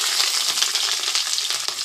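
Chopped onions and green chillies fry in a pan, giving a steady, dense, close sizzle that holds at an even level throughout, with no voices.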